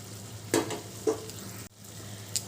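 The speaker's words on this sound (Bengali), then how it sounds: "এবার আমি মৌরলা মাছগুলো মশলার সাথে ভালো করে মিশিয়ে নেব" Fried mourala fish is stirred into a simmering curry in a pan, with a soft steady bubbling sizzle and a few brief scraping stirs; no voices.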